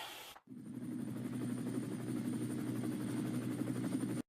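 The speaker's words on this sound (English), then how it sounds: "I'm in the chopper." A helicopter flies in an animated comedy scene. Its steady, close rotor chop drones loudly for about four seconds after a brief cut, with no talking over it.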